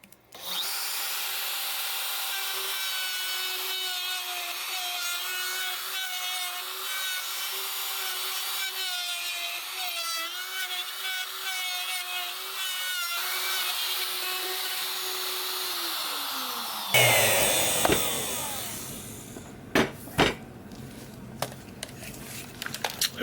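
A router fitted with a rounding bit cuts into a wooden box taped to a workbench, with a loud sustained high whine and grinding that drifts in pitch. It winds down after about seventeen seconds, followed by scattered knocks and clatter.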